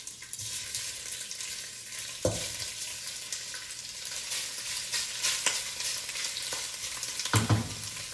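Pork with brown sugar, garlic and ginger sizzles and fries in a pan, a steady crackling hiss with occasional sharper clatters from stirring, moderately quiet and without talk.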